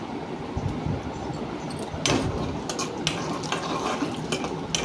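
Peanuts and lentils fry in hot oil in a pan for upma, making a soft continuous sizzle with a few spoon-against-pan scrapes and clinks, close and fairly quiet, with no voices.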